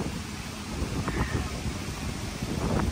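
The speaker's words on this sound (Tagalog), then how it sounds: "Malakas na yung ulan, malakas na yung hangin." Heavy rain roars steadily in Balabac, Palawan, with gusting wind buffeting the microphone in a dense, continuous wash of noise.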